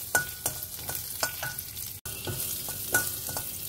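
Garlic, cumin seeds and bay leaf fry in oil in a pan at home, giving a steady close sizzle cut by periodic scraping strokes of a spoon against the pan, with one brief dropout midway.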